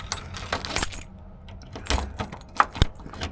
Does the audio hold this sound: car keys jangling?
yes